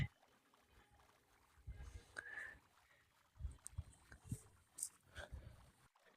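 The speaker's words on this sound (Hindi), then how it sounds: "तो हम लोग बोट चलाते रहते हैं, क्या पता हमें मिल जाए।" Quiet paddle strokes and soft water splashes come from a wooden boat being rowed across water in Minecraft survival mode, in irregular bursts over a faint ambient hush.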